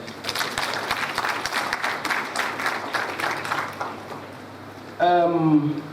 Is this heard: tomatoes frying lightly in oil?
no